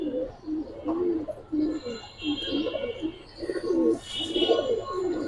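Giribaz and colored pigeons cooing at a sale, with repeated soft, rolling coos close by, a few chirps mixed in and a faint bird call higher up.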